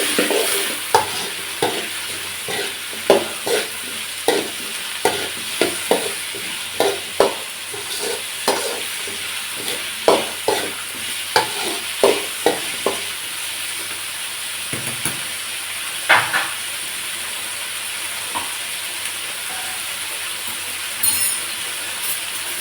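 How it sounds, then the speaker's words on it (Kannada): Chopped brinjal frying in oil in a pan for vangi bath, with a soft continuous sizzle under repeated sharp scraping and clinking strokes of a stirring spoon at an irregular pace. "ಅದನ್ನ ಹಾಕ್ಬಿಟ್ಟು ನೀಟಾಗಿ ಫ್ರೈ ಮಾಡ್ಕೊಳ್ಳಿ ಎಣ್ಣೆಲೆ"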